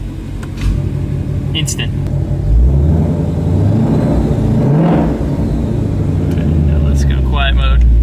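A Shelby GT500 idles and rolls with its exhaust set to quiet mode, a steady low rumble that swells slightly midway, running beneath close conversation throughout.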